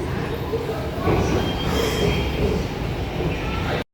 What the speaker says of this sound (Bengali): এটা কিন্তু রেল স্টেশনের ভিতরের দৃশ্য